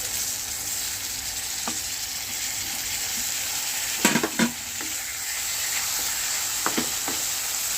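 Onions fry in a pan with a steady, soft sizzle as chopped tomatoes are added, a few sharp clatters and stirring knocks cutting through midway and again near the end.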